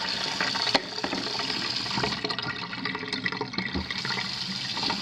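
Water pours steadily from a hot tap in a 1980s kitchen, a continuous close rushing splash with small clatters mixed in.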